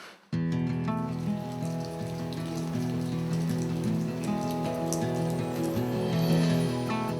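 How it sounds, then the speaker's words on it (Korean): Steady rain falls on a rural home in Taean, South Chungcheong, during the monsoon, a constant patter with dripping and light clinks layered over a low, steady hum. "추적추적 비가 내린다"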